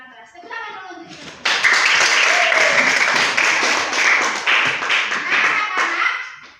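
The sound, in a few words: classroom children clapping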